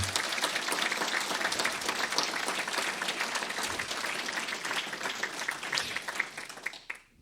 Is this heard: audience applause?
yes